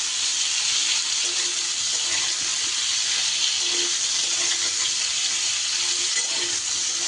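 Pointed gourds (potol) fry in hot oil with a loud, dense, continuous sizzle that stays even and close throughout, with no voices.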